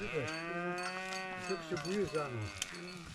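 A cow lowing on a mountain hike near Triglav in Slovenia, several drawn-out moos rising and falling over about three seconds, fairly close and clear.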